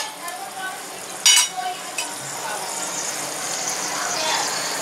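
Whole red chillies and curry leaves dropped into hot oil give a steady broadband sizzle with a brief loud crackle and a small clink early on, the frying continuing evenly close by, with no clear talk.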